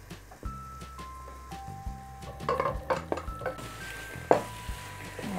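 Pork stir-fried in a pot for Lao khao soi sauce, with a spatula scraping and clinking against the metal pot over a low sizzle, the close stirring sounds coming in irregular bursts.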